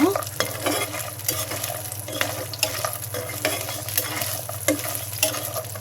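Ash gourd lentil dumplings (bori) fry in oil, a steady crackling sizzle broken by frequent stirring scrapes over a low constant hum, no voices.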